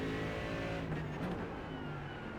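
Mercedes GT3 race car engine in the iRacing sim at Road America, a steady loud drone with rising harmonic engine tones as the throttle is fed in progressively in second gear, close and continuous without talk.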